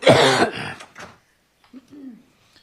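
A sharp, loud cough burst from a judge in a courtroom, followed by a couple of smaller coughs, then a brief low voice murmuring quietly nearby.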